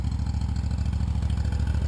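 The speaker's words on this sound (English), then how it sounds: "that's just at an idle with the tractor" A tractor fitted with LED roll bar lights idles steadily, a loud, close, low rhythmic engine chug with a faint clatter and no voices over it.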